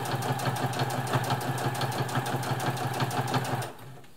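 A Brother Extra Tough sewing machine stitches through three layers of fabric at increased speed, a steady close mechanical hum with a rapid needle rhythm that winds down in the last half second.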